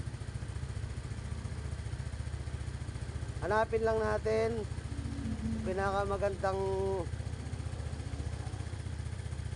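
A carbureted motorcycle engine idles steadily and loudly throughout, with someone speaking briefly over the running motor in two short bursts.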